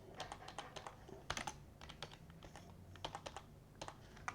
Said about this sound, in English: I will just type them again